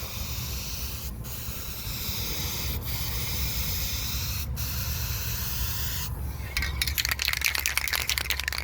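Clear coat hissing from a spray can onto a 1985 Corvette Z51 outdoors on a hot day, a steady close spray broken by short pauses and ending in a louder, sputtering burst; no one speaks.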